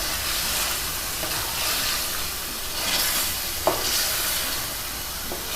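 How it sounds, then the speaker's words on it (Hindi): Goat liver cubes frying with masala spices in a pan, a dense continuous sizzle with occasional stirring scrapes, close and fairly loud with no talking. "इसे मसाले के साथ भून लेंगे।"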